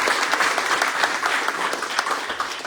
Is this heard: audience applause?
yes